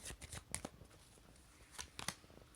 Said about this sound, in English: I will shuffle on camera